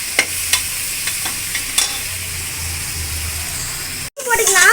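Mint and coriander stirred and frying in hot oil for country chicken biryani, a steady sizzle with a few sharp scraping stirs, close and loud, ending in a brief gap and a burst of fresh sizzling.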